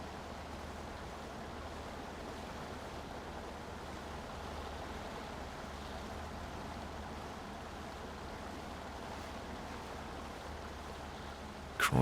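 Truck wheels churning through water in the Mudrunner off-road driving game, a faint, steady rushing wash of splashing water with a low engine rumble beneath, unbroken until a brief bump at the very end.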